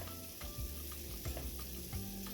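Ground beef with onion and zucchini sizzling in a skillet, a soft, fairly faint steady fry with occasional scrapes and knocks as the mixture is stirred.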